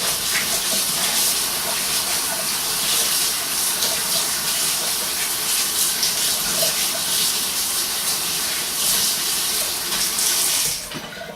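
Water runs steadily from a faucet close by as a continuous, loud hissing gush for about eleven seconds before easing off at the end, with a voice faintly underneath.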